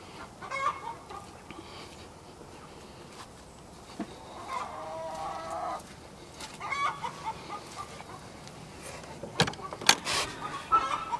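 Chickens cluck in short, scattered bursts, fairly faint and at a moderate distance, with quiet background noise between calls and no voice over them.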